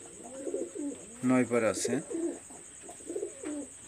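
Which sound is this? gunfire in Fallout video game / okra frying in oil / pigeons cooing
pigeons cooing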